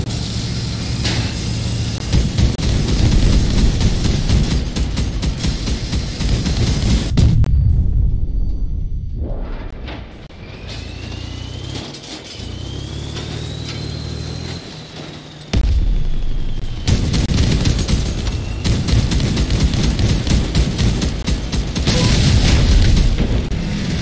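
Vehicles blowing up in the Crossout combat game: loud, close booming blasts and heavy bursts roll almost continuously, with a brief quieter lull in the middle before the explosions resume at full force.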